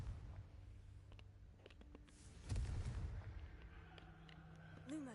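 A Confringo blasting spell explodes in Hogwarts Legacy, a deep booming burst around the middle of the clip that rises over a rumbling game soundscape, with faint magical tones near the end.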